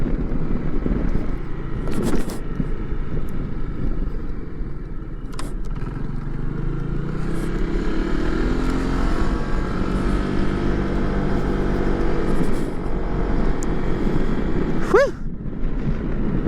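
A steady scooter engine drone runs throughout with rising and falling pitch, revving through tight turns on a potholed back road, with wind rush and a few sharp clicks.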